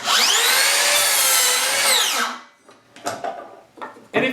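A Makita 36V brushless 7-1/2 inch dual slide compound miter saw spins up loudly and cuts through a 2x4, its whine winding down quickly under the electric brake, followed by a few clunks and handling knocks.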